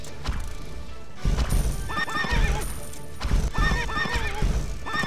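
Horses in the Medieval Defenders tower defense game whinny repeatedly over a continuous close clip-clop of hooves, with several neighs in sequence and dull thuds mixed in.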